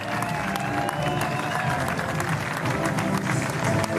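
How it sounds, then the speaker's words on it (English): An audience claps steadily and densely for the runners-up at a trophy ceremony after the final of a Swedish Master sports event, with scattered cheers mixed into the sustained applause. "please the public give a round of applause for Juani de Pascal and Gonzalo Alfonso."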